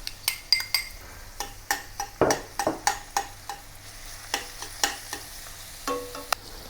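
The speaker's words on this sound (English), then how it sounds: "Saute the garlic and also the onions with some vegetable oil until aromatic." Garlic and onions sauté in vegetable oil for Malaysian Kam Heong chicken, with a steady sizzle under repeated sharp clinks and scrapes of a metal spatula against the pan, close and fairly loud.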